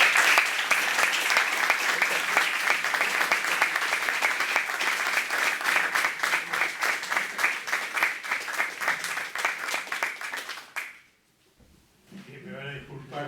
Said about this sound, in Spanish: un fuerte aplauso al padre Alfredo Sáenz